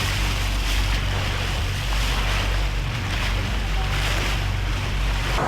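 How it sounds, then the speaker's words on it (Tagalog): Large waves on the lake at Taal Volcano wash steadily against a boat in a continuous loud roar, with wind buffeting the microphone throughout. "Ang lalaki ng alon dito."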